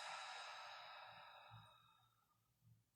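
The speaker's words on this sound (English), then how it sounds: "Exhale out of the mouth." A deep, slow exhale out of the mouth during yoga breathing, one long breathy whoosh that fades over a couple of seconds, close and quiet, followed by a faint soft breath.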